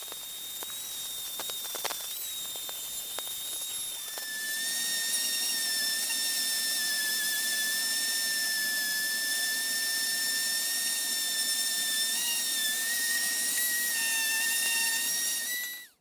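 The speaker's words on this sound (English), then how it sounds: "I used a rotary grinder to finish the welds so that they blend in and appear seamless" Rotary grinder working over stainless steel welds, a steady high-pitched whine that starts quietly, then swells after a few seconds into a loud, continuous grinding tone held for about twelve seconds before cutting off abruptly.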